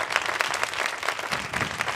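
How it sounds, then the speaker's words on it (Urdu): Church congregation clapping loudly for Jesus during an Urdu-Hindi sermon, a dense burst of applause with uneven claps pulsing over two seconds, close and full. "تالی مارنی تو یسوعی زور"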